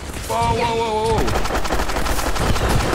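Gunfire in Fallout 4 erupts in loud, rapid bursts together with game sound effects, and a brief tonal electronic whine can be heard early on.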